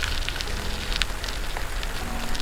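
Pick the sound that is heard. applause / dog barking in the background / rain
rain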